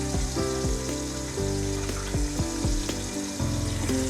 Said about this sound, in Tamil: இப்போ எண்ணெய் சூடாயிருச்சு. பட்டை, கிராம்பு போட்டுக்கலாம். அடுத்து வெங்காயம் ஆட் பண்ணிக்கலாம்.